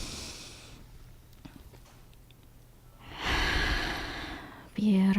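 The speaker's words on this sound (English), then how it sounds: "And let's breathe it in one more time." Slow, deep breaths are taken during a guided breathing exercise at an opening presentation, a quiet exhale early on, then a long, loud, close inhalation, with a voice cutting in at the end.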